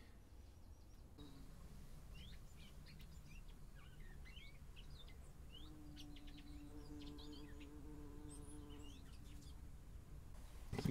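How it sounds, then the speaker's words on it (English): Bumblebees buzz steadily through a sheltered old lime kiln on the coast, low and continuous, with a few bird chirps and calls scattered over the top. "And bumblebees buzzing away."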